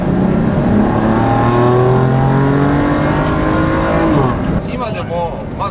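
A BMW M4 coupe engine revving high as it is downshifted through the gears, loud rising and falling engine tones from inside the car with a voice talking over it.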